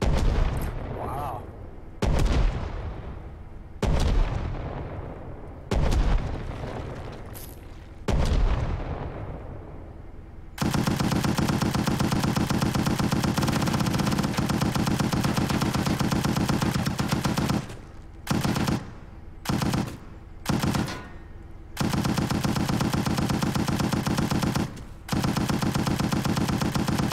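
Tank cannon and machine gun fire in the survival game Rust: dense, continuous loud gunfire and booming blasts after a few separate heavy shots, broken by brief pauses, with voices faintly under it.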